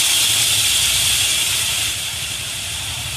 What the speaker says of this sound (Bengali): দারচিনি, লবঙ্গ, এলাচ দিয়ে এই যে মশলাটা করেছিলাম, সেই মশলাটা এই ঢেলে দেব